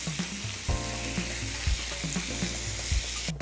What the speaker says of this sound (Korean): 자, 표고버섯을 먼저 볶고요.